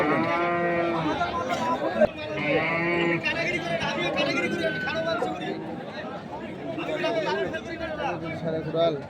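Bulls and cattle low repeatedly at a busy livestock market, with several drawn-out moos near and slightly farther off. Constant crowd chatter and bargaining voices run underneath.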